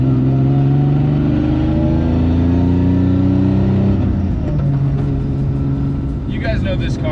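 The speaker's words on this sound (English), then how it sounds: "Sorry if it's a little loud in here between the exhaust and the Archer Blade tires and stuff." A 1995 Toyota Supra Special Edition idles with a steady, loud droning exhaust heard from inside the car, the note dropping midway, while someone talks over it.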